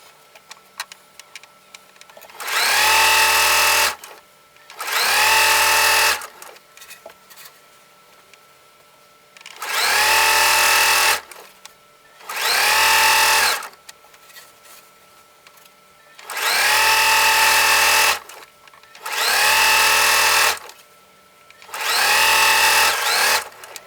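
Sewing machine stitching a seam on a pair of shorts, heard in seven loud, close bursts of rapid mechanical whirring, each a second or two long, separated by quiet pauses with small handling clicks.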